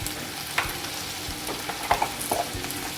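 Curry leaves with crushed ginger and garlic sauté in a pan. A continuous close sizzle is broken by irregular clinks and scrapes from stirring, with no voices.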